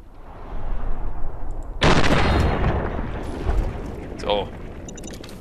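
A single loud gunshot bursts out in Fallout 3 with a hardcore mod, striking abruptly after a low rumbling game ambience and trailing off with reverberant noise and a brief higher tone.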